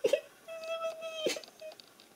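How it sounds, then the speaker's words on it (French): A soft, tonal crying wail rises from a bramble-ringed tunnel in a storybook setting, drawn out in a long plaintive note between short sobbing catches, fairly close and clear with no talking. "On dirait des pleurs."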